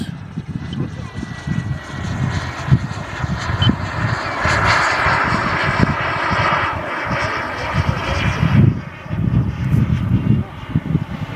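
A Boomerang Lancer RC jet cruises overhead at about half throttle, its steady turbine roar rising and falling as it passes, with someone talking over the engine noise outdoors.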